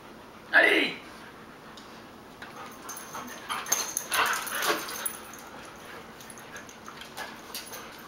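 Dogs at play, with a loud sharp yelp near the start followed by a run of soft whimpers, snuffles and panting noises, fairly close. Someone speaks briefly in the background.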